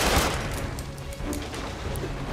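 Gunfire from the PS4 game Marvel's Spider-Man rattles through dense game action, a busy barrage of shots and impacts with no clear pauses, continuous and moderately loud.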